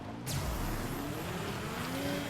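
Car driving in the video game Borderlands 3: a steady engine drone with tire noise, continuous and fairly loud from start to end, with no talk over it.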